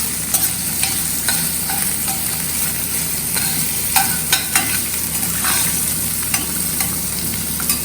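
Capsicum fries loudly in a pan, a continuous close sizzle with frequent scraping and tapping from stirring spread evenly across the whole stretch, without any speech.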